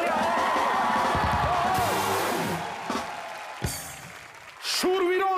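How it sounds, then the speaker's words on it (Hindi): The studio audience of a TV comedy show applauds and cheers to welcome a wrestler guest. Loud clapping and whoops fill the first half and then thin out under music and scattered voices. "एक बार जोरदार तालियां।"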